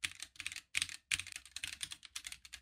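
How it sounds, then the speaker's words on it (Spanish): Fast, steady typing on a GamaKay K66 tactile mechanical keyboard, close and crisp, with a few brief pauses between bursts and no voices. "la que es de tipo táctil y que es justamente el teclado que yo estoy utilizando"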